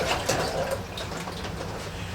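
Water pours steadily and close up for cowboy coffee at a cabin, a continuous broadband splash and trickle with no talk over it.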